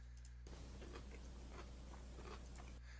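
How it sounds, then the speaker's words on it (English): Crunchy food being chewed close to a microphone, a steady run of crisp, brittle crunches over roughly two seconds with no talking. "you can hear the crunching. Can you hear that?"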